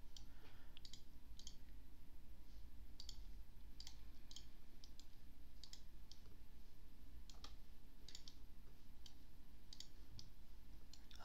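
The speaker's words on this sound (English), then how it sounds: "I'm clicking too the whole time" A computer mouse clicks rapidly and repeatedly during a game of Roblox Brookhaven, with sharp, close, irregular clicks in small bursts over a steady low background hum.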